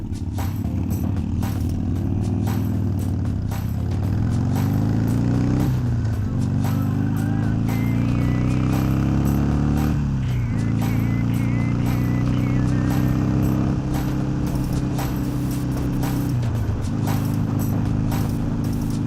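Harley-Davidson Iron 883 motorcycle engine revving hard while riding, a loud continuous low rumble that climbs in pitch through the RPMs and drops sharply at each of several gear shifts, with wind noise throughout.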